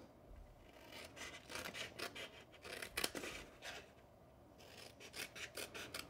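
Scissors snip through paper while a shadow box is being made. Quiet, close rasping cuts come in quick irregular runs, with a few brief pauses between strokes, and no one talks.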